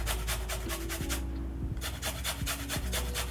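A lemon rubbed against a grater for zest in repeated quick rasping strokes, close and rhythmic, with a brief pause partway through.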